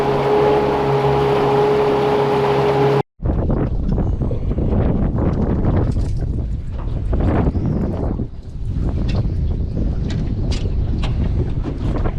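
Strong wind buffeting a microphone on a boat while fishing for flathead, a loud continuous rumble and roar with gusts that hold steady throughout, after a brief opening hum and a momentary dropout.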